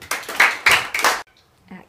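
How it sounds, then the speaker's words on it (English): A small group claps in a few quick bursts of hand claps, close and fairly loud, for about a second before it stops abruptly, leaving faint background noise and a brief voice. "Give them a big clap, well done"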